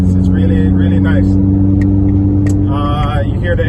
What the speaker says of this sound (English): You hear the exhaust. It's a Bushra racing exhaust.